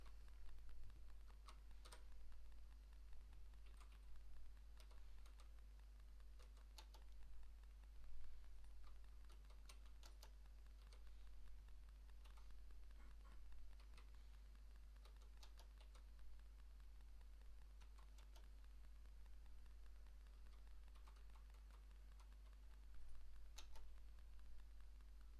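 Keys tapped on a Maltron one-handed keyboard in a quiet room, a sparse, uneven stream of light clicks with short pauses, close and faint over a steady low hum.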